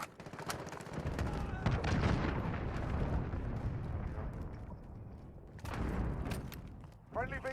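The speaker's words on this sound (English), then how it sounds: "Allied cruise missile away." A cruise missile strike in Call of Duty Modern Warfare lands as heavy rumbling explosions mixed with bursts of gunfire, swelling, fading, then erupting again near the end.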